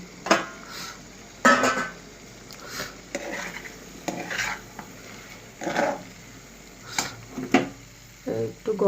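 Fried paneer goes into a pan with ghee and is stirred, giving repeated metallic clanks and scrapes of a spoon against the pan, close and fairly loud, with a soft sizzle between strokes.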